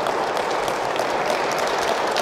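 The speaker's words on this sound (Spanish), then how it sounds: "Pues vamos a darles un fuerte aplauso a estos nuevos esposos" Wedding guests in a church applaud the newlyweds, a steady, dense wash of many hands clapping at once, fairly close and sustained throughout with no talking over it.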